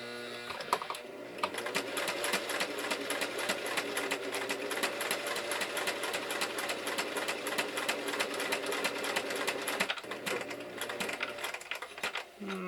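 A sewing machine runs slowly and steadily as it stitches fabric for a wrist strap, with a fast, even mechanical chatter that breaks off briefly near the end and then resumes.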